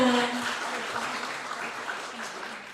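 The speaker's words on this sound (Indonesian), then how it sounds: "Tepuk tangan untuk kita semua" Applause from an audience at a university English study program event fills the space, a broad, steady wash of clapping that fades slightly over its short span, with faint voices beneath.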